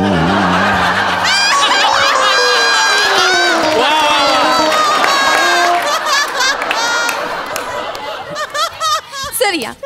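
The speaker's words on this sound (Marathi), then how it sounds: "तुम्ही अरे असं जोरदार टाळ्या." An audience at a Marathi comedy poetry gathering cheers and laughs loudly for a poet arriving to read, with raised voices and whoops over a crowd that is fading toward the end.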